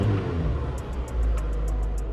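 A Honda Civic's engine idles smoothly with a low steady rumble, a faint repeated ticking riding on top.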